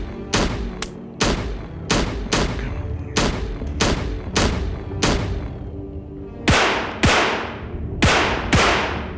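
Video game gunfire from Plants at War: a string of sharp, loud shots, about a dozen, fired in an uneven rhythm with short gaps, each with a brief ringing decay.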